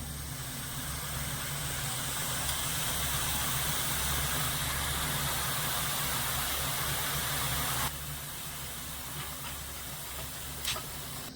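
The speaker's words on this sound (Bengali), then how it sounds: "এবারে তেলের মধ্যে ঠিক আমি এরকম দিয়ে ভেজে নেব" Bhujia strands sizzling in hot oil, a steady dense hiss and bubbling that stays loud and continuous throughout, easing slightly near the end.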